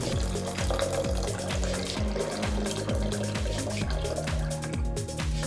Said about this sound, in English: Here I have 1 cup of instant oats, and I will pour on it 1 liter of water.